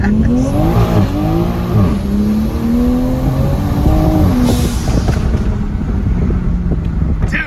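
A Toyota Supra fitted with lowering springs accelerates hard and close, engine pitch climbing through gears with shift dips, under heavy wind rush and road roar.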